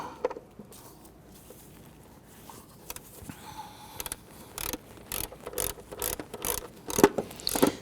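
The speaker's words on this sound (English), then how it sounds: "We're going to use a shallow 10mm in our ratchet." A ratchet with a shallow 10mm socket works timing cover bolts on a 1992-1996 Toyota Camry 2.2L four-cylinder engine, quiet at first, then a series of sharp clicking bursts that grow louder toward the end.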